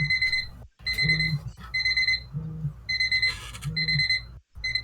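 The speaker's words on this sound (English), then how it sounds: "this is the timer." Timer alarm rings in repeated electronic beeping bursts separated by brief gaps, loud and close, with no one speaking over it.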